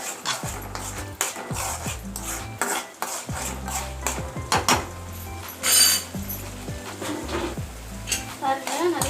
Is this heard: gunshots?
no